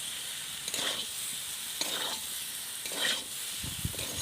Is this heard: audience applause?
no